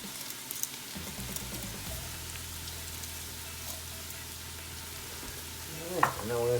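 Garlic and bay leaves cook in a pot of fish soup, giving a steady low sizzle and simmer throughout, with a brief clatter of movement near the end and no talking.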